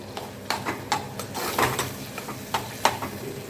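A tomato masala sautéed in a pan is stirred with a spoon, giving a series of scraping knocks over a soft sizzle for a few seconds, with no talking.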